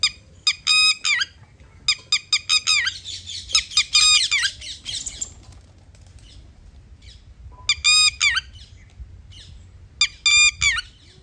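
A parrot in a village setting lets out repeated harsh, shrill squawks in short bursts separated by quiet gaps, loud and close, with no talking.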